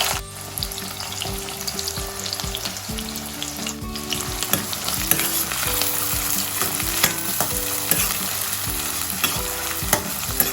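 Onions and cumin seeds crackle and sizzle loudly in hot oil for a ridge gourd and prawn curry. The steady frying hiss comes with scattered stirring taps, and background music plays underneath.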